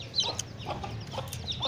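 A hen clucking softly with short chirping calls from chicks, intermittent and fairly close in a household setting.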